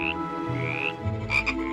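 Cartoon frogs croak from a girl's mouth in an animated children's fairy tale. A few short, throaty croaks sound over a music bed, with two sharper, louder croaks near the end.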